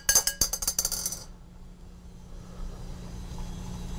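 About half a gram of sodium drops into a container and reacts, giving a rapid burst of sharp crackling pops and sparks for about a second that then trails off into a low hiss and faint room hum.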